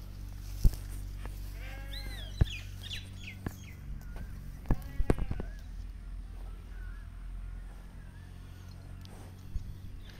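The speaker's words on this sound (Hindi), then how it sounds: "ये देखें, एक मेंढा घास खा रहा है" A ram grazes on grass in a village, bleating several times in short, wavering calls among soft sharp thumps, with birds chirping faintly in the background over a low steady hum.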